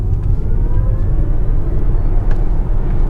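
A 320-horsepower Hyundai Ioniq 6 electric sedan accelerates up a steep Vancouver hill, heard from inside as a steady, loud low rumble of road and wind noise with a faint electric whir.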